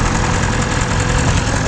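BMW S1000RR motorcycle engine during a downshift with rev matching, a loud, dense, steady roar close to the rider, with no voices.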